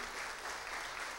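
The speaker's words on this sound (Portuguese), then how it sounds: "Aplauda então." A church congregation claps in a brief burst of applause, a dense, even patter of many hands at moderate distance, lasting just over a second.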